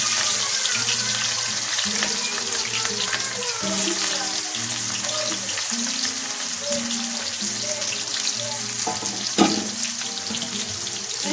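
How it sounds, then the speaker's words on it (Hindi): Onions hit hot oil in a pan for a mixed vegetable dish, giving a continuous hissing sizzle layered with bubbling, low sputtering tones and a sharp clatter near the end, up close throughout. "तो तेल मैंने गर्म होने के लिए रख दिया था। अब हम इसमें प्याज शामिल कर देते हैं।"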